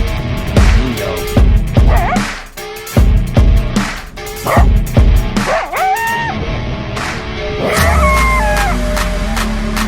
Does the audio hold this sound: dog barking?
yes